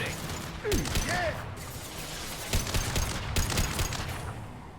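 Rapid gunfire in a Mass Effect 2 firefight, with bursts of shots cracking out in quick clusters amid other loud combat effects and a continuous busy background.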